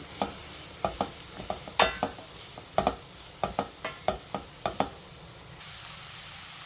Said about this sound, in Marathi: शिमला मिरची आणि फ्लावरसुद्धा घेतलेले आहे तुम्हाला ज्या आवडतील त्या तुम्ही भाज्या घेऊ शकता परतून घेऊया